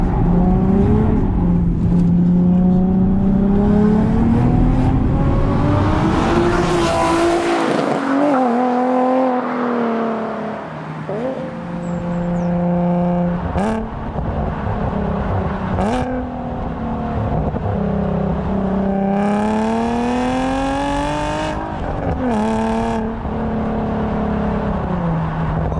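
A Nissan 370Z engine revs hard, rising and falling through several climbs in pitch with a sharp roaring tone, loud and close, with brief lulls between pulls and a faint tire squeal.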